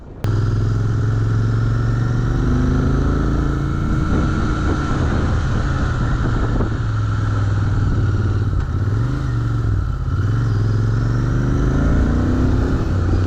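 Motorcycle engine running with a fault and failing to pull, on a road trip in Spiti near Kaza, heard as a continuous close droning hum with a steady low tone and slight wavering, no speech.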